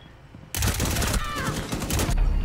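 Gunshots in the tactical shooter Rainbow Six Siege: a sudden loud burst of rapid fire that runs for about two seconds, with a brief voice-like sound partway through.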